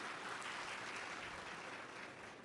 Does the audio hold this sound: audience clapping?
yes